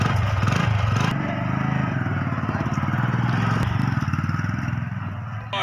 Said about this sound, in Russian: Сейчас покажет, как он может водить этот мотоцикл.